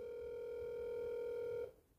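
A steady telephone dial tone during a prank call, one continuous even tone held for about a second and a half, then cut off abruptly, leaving near silence.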